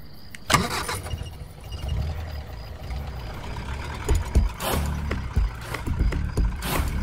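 A car engine cranks and catches with a sharp start, then runs and revs unevenly, with clunks and rattles of the vehicle standing over a steady low rumble.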